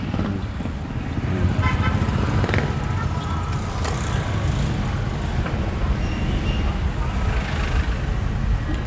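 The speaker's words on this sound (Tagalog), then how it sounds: "Sigurado yan. Traffic yan." Busy road traffic near Soledad, a steady roar of cars and buses with a few short car horn toots rising above the din, heard up close from inside the flow.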